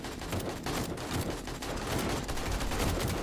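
Rapid high-power rifle fire in the zombie survival game 7 Days To Die, a steady stream of overlapping shots with a dense, rumbling texture at moderate volume, no talking.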